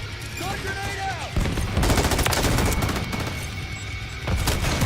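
Video game gunfire crackles in dense bursts after a thrown grenade, with heavy booming impacts and sustained rapid shots filling most of the stretch, loud and close.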